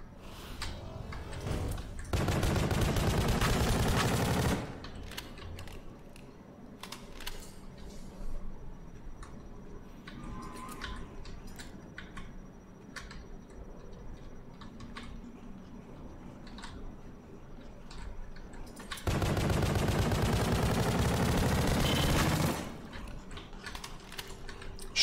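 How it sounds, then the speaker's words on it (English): Rapid video game gunfire from weapons that shoot faster the longer they fire, in Pony Island: two loud bursts of fast repeating shots, one near the start and one near the end, with quieter clicks and ticks between them. "Guns that shoot faster as you shoot them."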